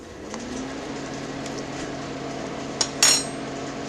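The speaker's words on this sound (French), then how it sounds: "Il faut bien mélanger le bicarbonate à l'eau." A spoon stirs about two spoonfuls of baking soda into 2.5 litres of water for a rust-removal electrolysis bath, giving a couple of sharp metallic clinks over a steady low hum.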